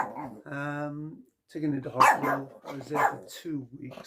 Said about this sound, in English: excuse my dog